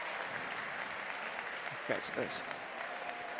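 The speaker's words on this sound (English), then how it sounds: "clap from the crowd as she leaves on the right" A crowd at a women's bouldering final in Meiringen claps steadily in the background while a commentator speaks over it, the applause a soft, even patter beneath the voice.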